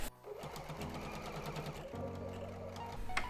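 A sewing machine runs steadily, stitching a seam across a portable baby changing mat, its rapid needle chatter continuous and close for about three seconds before a brief sharp click at the end.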